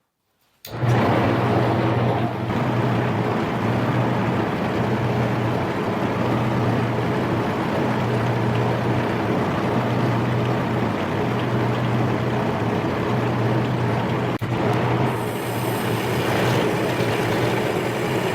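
A metal lathe taking a heavy single cut of about an eighth of an inch off a diameter, a loud continuous mechanical drone and hum that runs steadily for the whole stretch, the tone shifting slightly near the end.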